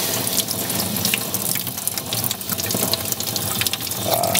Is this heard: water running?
yes